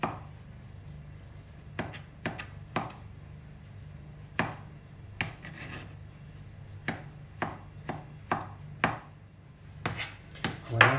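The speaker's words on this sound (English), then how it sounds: "I slice that down. There we go. And I make little cubes out of that." A knife cutting beetroot into little cubes on a board, a series of crisp chops in uneven bursts, close and fairly quiet, growing slightly denser toward the end.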